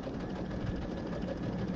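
A sewing machine stitching a 3/8 inch seam on a tote bag, a steady close motor whir with a continuous rapid needle rhythm, quiet and unbroken throughout.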